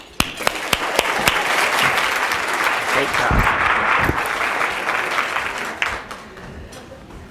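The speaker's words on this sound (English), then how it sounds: "So huge round of applause for Mary." Breakfast audience at the Rise Up Together 2018 Annual Breakfast applauds steadily and loudly for several seconds after a speaker is introduced, fading near the end, with a voice briefly speaking over it.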